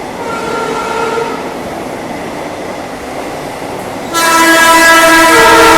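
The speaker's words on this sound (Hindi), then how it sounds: "New Delhi Varanasi Vande Bharat express." A New Delhi–Varanasi Vande Bharat Express train rushes past with a steady rail roar, joined by an electric horn that sounds in a long sustained blast for the last couple of seconds, loud and close, with no one speaking.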